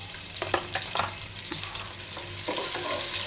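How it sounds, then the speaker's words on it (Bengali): Onions fry in hot oil into crispy beresta for pulao, a continuous crackling sizzle broken by light scrapes and taps of a spatula against the pan. "এদিকে পেঁয়াজটা বেরেস্তা হতে হতে আমি এদিকে ভেজে নেব সব কিছু"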